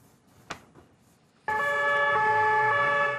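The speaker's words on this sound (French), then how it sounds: "Sirènes, gyrophares, circulation bloquée." Police vehicle sirens blare on the Champs-Élysées in Paris, starting abruptly after a quiet street moment with one faint knock, then holding loud and steady with layered wailing tones until the end.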